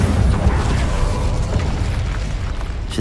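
Incendio fire spell blast in Hogwarts Legacy, a loud close roaring burst of fiery rumble that stays dense and sustained throughout, with no talk.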